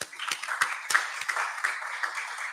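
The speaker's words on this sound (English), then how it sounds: "I need to clap those 2 people" Sparse, uneven clapping from a small auditorium audience, a few distinct hand claps at first, then a softer patter of scattered applause continuing for a couple of seconds.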